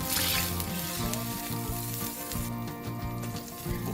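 Butter and garlic sizzling in a pan on medium heat: a dense, steady close-up sizzle held throughout, with a repeating tonal pattern running underneath.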